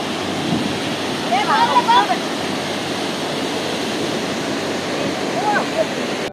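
A waterfall flows in a steady, full rushing hiss that never lets up, with brief high chirps of birds or voices faintly over it at a couple of moments.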